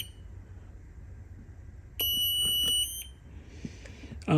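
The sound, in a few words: timer early warning alarm sounding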